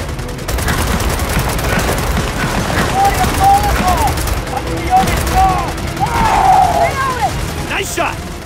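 Firefight gunfire in Gears of War 4, continuous dense shooting and distant bursts under voices calling out throughout.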